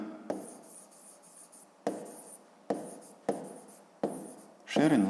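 Hand writing on paper with a pen during a school maths lesson, a run of short scratchy strokes in bursts separated by brief pauses, close and quiet, with a voice speaking briefly.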